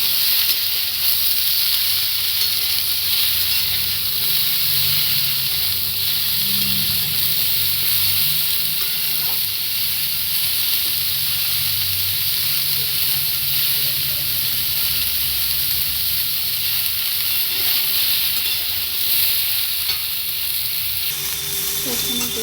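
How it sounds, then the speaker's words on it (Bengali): Vegetables frying in a pan on a rainy-day home recipe, giving a steady, close sizzle with a bright hiss that runs unbroken for the whole stretch, with occasional soft stirring and no one talking. "সমস্ত সবজিগুলো ভাজা হয়ে গেছে"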